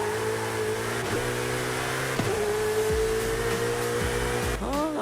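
Twin-turbo Ferrari V8 in Forza Horizon 5, a steady loud engine drone with several quick revving shifts and a rising whine near the end.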